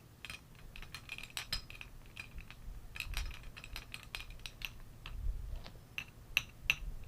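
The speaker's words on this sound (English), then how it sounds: "You want to give it a slight stir just to help bring it all together." A French Connection cocktail being gently stirred: light metallic clinks and ticks of a spoon against glass and ice, irregular and fairly soft, over a low background hum.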